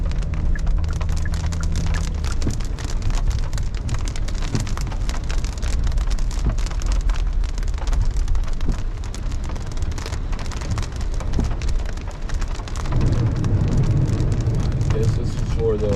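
Heavy storm rain pours steadily onto Bird Road in Miami between Westwood Lakes and Westchester, a dense, continuous hiss with low rumbling traffic beneath and a louder passing vehicle toward the end.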